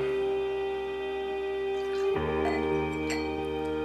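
Bourbon poured into a beer glass, a short liquid trickle with a few light glassy clinks over a steady tonal hum, fairly close and moderately loud.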